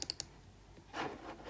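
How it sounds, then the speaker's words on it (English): Three quick, faint button taps on a calculator keypad are heard, followed by quiet room noise and a soft rustle. "I'm typing that into my calculator."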